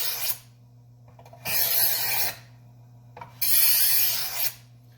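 A knife drawn across a fine sharpening stone in three long, even rasping strokes with short pauses between them, close and clear over a low steady hum.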